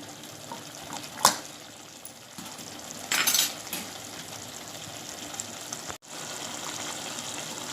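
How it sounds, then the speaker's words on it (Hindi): Water poured into a pan of mutton masala on the stove: two short splashing bursts, the second longer, against a low steady kitchen background, with no talking. "अब इसमें हम थोड़ा पानी डालकर पकने के लिए रखेंगे"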